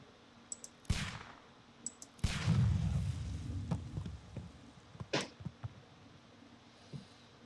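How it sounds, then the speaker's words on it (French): In the Sherlock Holmes video game, a pistol fires sharp single shots at a package, followed by a deep, rumbling dynamite explosion. Scattered clicks and smaller bangs trail off into quieter ambience, and no one speaks. "Do you have your pistol? Good. Fire at this package."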